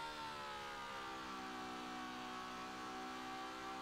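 A Ferrari 812 Superfast in Forza Motorsport 7 on an airfield, its engine holding a steady, loud, high-pitched drone that climbs slightly in pitch as it accelerates, with no talk over it.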